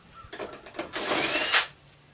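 A power drill fitted with a 5/16 bit backs screws out of a washing machine being scrapped, giving a couple of short whirring bursts that rise to a louder spin before stopping.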